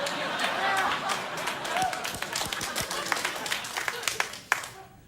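Studio audience at a late-night talk show applauding, a dense run of claps that tapers off, with a voice talking over it.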